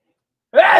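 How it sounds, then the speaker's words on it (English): A single short sneeze bursts out abruptly after half a second of silence, loud and close. "I got to sneeze."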